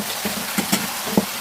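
Fish cake being stir-fried with chili oil in a pan, soft sizzling under a few quick scraping stirs and light utensil knocks, quiet and close.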